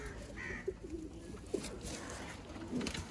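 Sialkoti pigeons coo softly in a few short, low calls, faint and scattered over a quiet background hiss.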